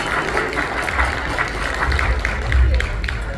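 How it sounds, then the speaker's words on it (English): Audience applause fills a gala hall at a Mother's Day event, a dense, steady wash of many hands clapping with crowd murmur mixed in, holding at an even level for a few seconds. "Yes, that's applause"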